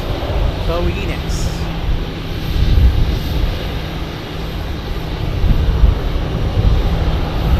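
Airliner rolling toward runway 12 at Tucson for takeoff, a steady low engine rumble and whine that swells and fades across the span, with a brief higher whistle early on.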